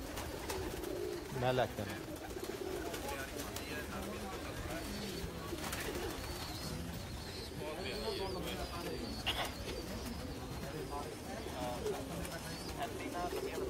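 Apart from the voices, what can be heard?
pigeons cooing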